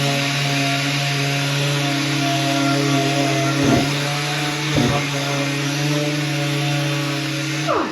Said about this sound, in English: use the edge of the DA sander and kind of just create the indented part of the line